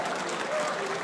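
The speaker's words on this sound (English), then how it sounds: "The crowd is already clapping for him." A large audience at the EMS One Katowice 2014 CS:GO esports semifinal claps continuously, a dense patter of applause at moderate volume with no pauses over the short stretch.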